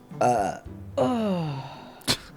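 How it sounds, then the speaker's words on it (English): Two long, deep, drawn-out burps up close, followed by a short sharp exhale. "I have to burp"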